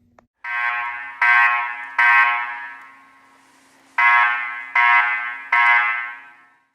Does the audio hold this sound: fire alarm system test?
yes